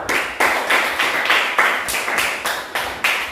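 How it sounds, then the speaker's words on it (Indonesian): A class applauds a student group in a lesson, with loud, close clapping in a clear rhythmic pattern of about ten regular bursts, each with a sharp attack. "Jadi tepuk tangan untuk kelompok sudut."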